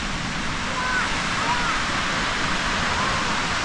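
Steady, unbroken roar of ocean surf on the foggy Limestone Coast near Southend, Australia, a dense wash of breaking waves with no distinct individual crashes.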